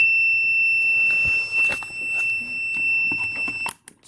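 A multimeter on continuity test while checking an Apple IIe power supply emits a sustained high electronic beep close by, running steadily for most of the moment with a brief break, alongside light handling clicks before it cuts off.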